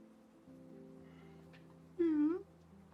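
Cat meowing indoors, one clear drawn-out meow rising above a low steady background hum, alone with no talking over it.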